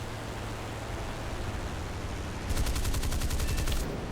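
A rapid burst of Spitfire F Mk 22 cannon fire in War Thunder, a dozen quick evenly spaced shots, cuts through a steady engine drone.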